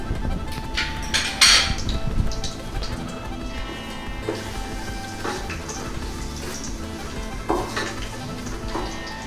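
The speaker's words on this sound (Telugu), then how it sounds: "వేసిన ఈ తాలింపు దినుసులు ఆయిల్లో చిన్నగా ఫ్రై అవుతూ ఉన్నాయి." Tempering spices fry gently in hot oil for bagara rice, a soft steady sizzle broken by intermittent clinks of a spoon stirring against the pan, with no talk.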